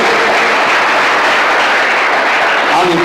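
Church congregation applauding, a loud, dense, sustained clapping that fills the whole stretch and stays even in level from start to finish.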